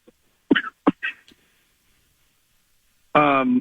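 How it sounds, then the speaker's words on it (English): A few sharp coughs in quick succession close by, followed after a pause by a brief voiced sound. "You got that cough going?"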